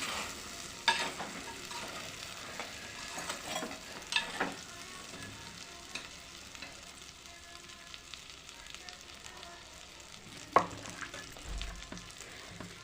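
Vadiyalu frying in a pan with a steady, fairly quiet sizzle, as a utensil stirring them gives occasional scraping clinks.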